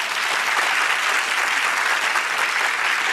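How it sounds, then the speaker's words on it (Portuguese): A studio audience at a televised talk-show interview breaks into steady, dense applause that holds at an even level for about three seconds, with no voices over it. "Uma salva de palmas."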